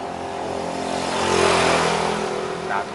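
A motorcycle engine with a fault that stops it taking full throttle, its throttle lever wedged, revs up close by in a short rising surge that swells and then eases off.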